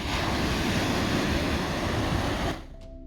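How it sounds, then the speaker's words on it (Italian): Rough sea at the Entella river mouth near Chiavari roars as continuous loud surf and crashing waves, broadband and steady, with wind buffeting the microphone before it drops away near the end. "Il mare, un bel mare oggi, bello arrabbiato"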